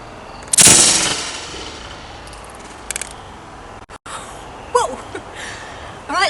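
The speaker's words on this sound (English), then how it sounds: "there you have it, your own marshmallow cannon." A homemade marshmallow cannon fires once with a sharp, loud burst that decays over about half a second, followed by a few small clicks and rattles and a faint squeaky sound near the end.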